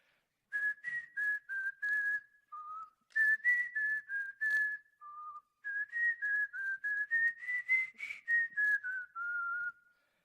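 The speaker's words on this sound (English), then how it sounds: "So I start whistling one of my favorite songs" Someone whistles a melody alone, clear sustained notes in short phrases separated by brief pauses, close and moderately loud.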